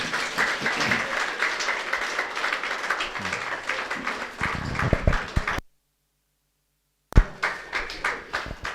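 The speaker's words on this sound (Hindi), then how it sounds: "आप सभी ताली बजाते रहें।" Audience at a Brahma Kumaris class in Hamirpur clapping loudly, a dense run of applause with some sharper individual claps, briefly cut to silence before clapping resumes.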